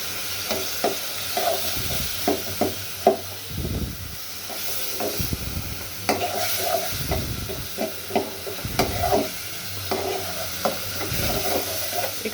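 Chopped and ground onions cook in a pan with shrimp, giving a continuous hissing sizzle broken by irregular bursts of stirring and louder spattering, close and clear with no speech.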